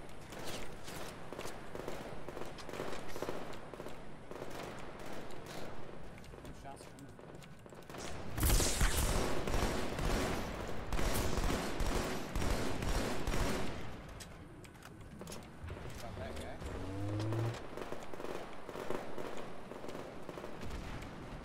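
Bursts of automatic gunfire in the Halo Online video game, rapid and dense, repeating across the clip with heavier volleys midway, under occasional player talk.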